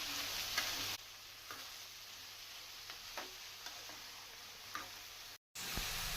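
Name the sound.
stirring ridge gourd curry in a pan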